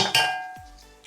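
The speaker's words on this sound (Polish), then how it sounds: "Namoczony ryż ląduje w garnku." Soaked sushi rice tips into a cooking pot with a sharp metallic clank and a short ringing decay, followed by a softer knock near the end.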